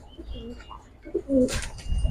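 Military Lalpatti pigeons give soft, low coos in two short bursts, followed by a brief rustle of feathers or movement, close by in a quiet setting.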